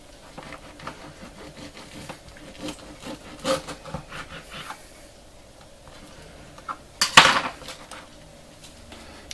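A knife presses and saws through a layered club sandwich of bread and salad on a board, with soft scraping and rubbing, then a louder crunchy burst of cutting toward the end.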